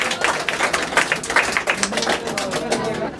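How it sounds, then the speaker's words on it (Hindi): An audience claps for a student topper at a Bihar board Class 12 results event, giving dense, irregular clapping that stays loud and close for the whole stretch. "तो इनके लिए एक बार जोरदार तालियां हो जाए।"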